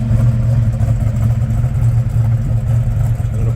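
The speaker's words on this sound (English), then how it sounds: "You hear that exhaust." A 396 V8 in a 1969 Chevrolet Chevelle SS tribute idles close by, its exhaust a steady, deep low rumble with a slight uneven lope, continuous and loud with no talking.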